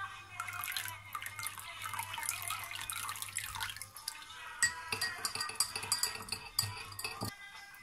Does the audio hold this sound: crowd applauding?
no